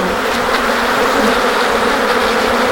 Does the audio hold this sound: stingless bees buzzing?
yes